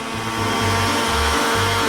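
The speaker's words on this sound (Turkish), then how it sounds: "Bunu bir mikserle çabucak yapacağım." Electric hand mixer beating cake batter of eggs, grated ingredients and sugar for waffles, a loud close whirring drone that surges and dips in short pulses.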